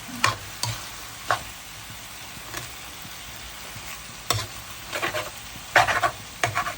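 Glass noodles with bamboo shoots and shrimp stir-fried in a pan, a soft background sizzle broken by bursts of spatula scraping and tossing at irregular intervals, close by, with no talking.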